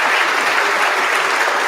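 A crowd at a spring sports awards ceremony applauds loudly and steadily, dense clapping filling the whole moment with no voices standing out.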